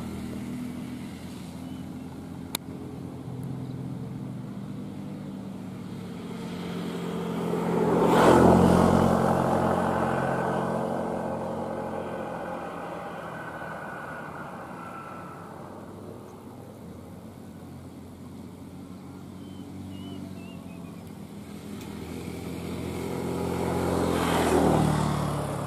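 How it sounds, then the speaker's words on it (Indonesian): A truck labors along a steep, winding mountain road in West Java, its engine drone swelling loudly as it passes close, easing to a steady rumble, then building again near the end, with no talking. "Ada truk."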